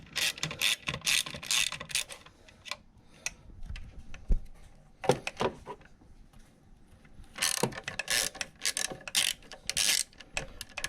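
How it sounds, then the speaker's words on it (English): An Allen key turns the valve cover bolts on an Audi A4 1.8T engine, with a ratcheting handle giving bursts of dense, close clicking separated by quieter pauses and a few sharp metallic knocks. "it's important on these Allen key bolts, make sure you have the Allen all the way inside of there"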